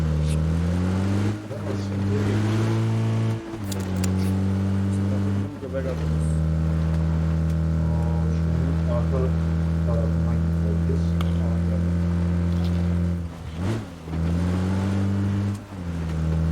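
A car engine drives steadily in PUBG Battlegrounds on the Erangel map, a loud droning hum that shifts pitch as it revs and changes gear, with brief dips, while players talk over it.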